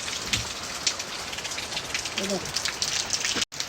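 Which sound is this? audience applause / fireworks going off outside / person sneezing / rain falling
rain falling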